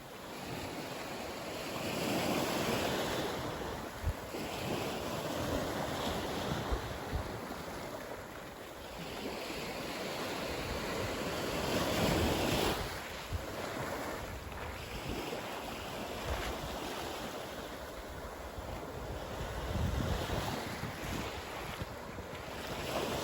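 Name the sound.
ocean waves on a Florida island beach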